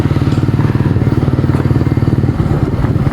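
A motorcycle engine runs close and loud during a road trip in Placer, Masbate, a steady rapid pulsing throb.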